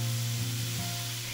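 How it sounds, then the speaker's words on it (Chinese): Black fungus, cordyceps flowers, leek and lily hitting a hot wok, a steady, close sizzle over a low kitchen hum. "下锅炒香后"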